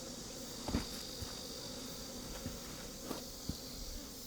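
Honeybees from a captured swarm buzz in a hive, a soft continuous hum with a few brief knocks and rustles, close and fairly faint.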